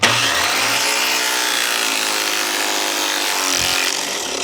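A dangerous-looking crescent saw blade cuts through wood with a loud, close, continuous grinding rasp that holds steady for about four seconds, with no talking.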